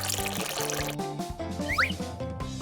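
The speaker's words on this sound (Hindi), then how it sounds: "और इसमें पानी भरूंगी" Water pours and trickles into a pool as it fills, a bright splashing stream heard close up beneath background music.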